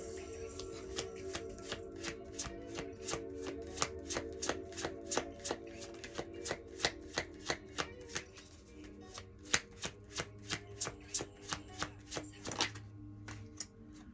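Tarot cards are shuffled quickly in a rapid series of crisp riffling snaps, close and fairly quiet, with no talking.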